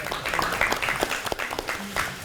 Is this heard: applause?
yes